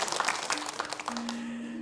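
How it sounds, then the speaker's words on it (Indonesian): Crowd applause at a Javanese stage comedy show, a brief dense burst of clapping that thins out and fades while a steady tone sustains underneath. "Nggih, tepuk tangan."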